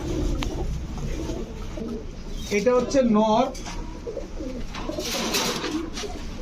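A pair of big, pure-white Indian Kakji pigeons coo in a rolling, clearly audible call near the middle, while someone talks over the surrounding bird sounds.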